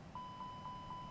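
Faint, steady, evenly spaced electronic beeps from an A320 cockpit warning alarm in the Prepar3D flight simulator, repeating about four times a second over a low engine rumble.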